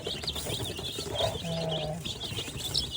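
Young colored chicks in a new cage give off repeated high, thin peeping chirps at a moderate distance, over a steady low background murmur.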